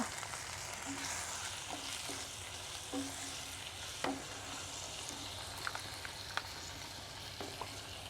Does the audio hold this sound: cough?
no